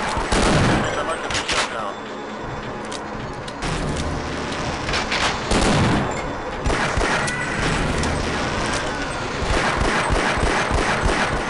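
Enemy gunfire in the video game Half-Life: Decay, with rapid automatic bursts and single shots cracking over and over, loud and dense.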